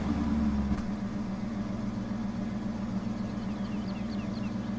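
A 75-horsepower tractor in a harvest video game hauls a long train of 21 full trailers, its engine giving a steady, low idling drone that holds at an even level throughout with no talk.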